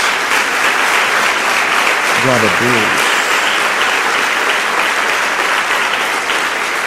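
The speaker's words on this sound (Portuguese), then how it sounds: "Dê uma salva de palmas a Jesus." A church congregation claps for Jesus in dense, sustained applause throughout, loud and close, while a voice briefly speaks over it partway through.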